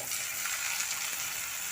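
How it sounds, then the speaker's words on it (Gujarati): Tomatoes added to fried onions and spices, frying on a low gas flame with a continuous even sizzle and light crackling, close and quiet, with no one speaking. "તો આપણે ટમેટાને પણ ધીમા ગેસ ઉપર તળવા દઈશું।"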